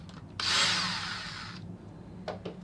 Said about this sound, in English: once I already loose, I can use the drill and get them off